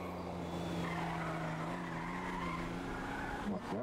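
Car skidding through a turn in the game FiveM, a steady loud tire screech over engine drone that holds for nearly four seconds, with no talking.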